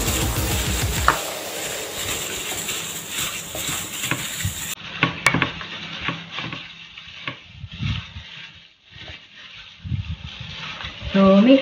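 Pork ribs mixed by hand with a marinade paste in a bowl make wet squelching and patting sounds with occasional clinks from the dish, close up, while a voice talks over part of it.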